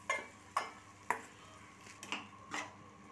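Rice being stirred into a pan for mango and carrot pulihora, with soft scraping and clinking strokes at a steady half-second rhythm, close but faint, with no talking.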